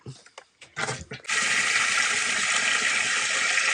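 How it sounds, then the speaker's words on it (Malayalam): Water is pumped into the live well of a fishing boat. After a second of talk, a steady, loud rush of flowing water begins and continues without a break. "കുറച്ച് വെള്ളം അടിച്ചിടാം"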